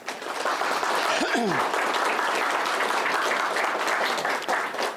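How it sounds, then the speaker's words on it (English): A round of applause at a wedding reception: steady, dense clapping from a sizable group fills the whole stretch, broad and sustained, with a brief whistle or voice rising near the start. "Round of applause."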